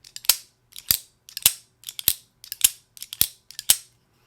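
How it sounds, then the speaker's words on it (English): Blade of a Demko AD20 folding knife with a shark lock swinging open, giving a sharp multi-part mechanical click, repeated seven times in a steady rhythm, close and crisp with nothing else in the background. "it gives you that familiar triple click here"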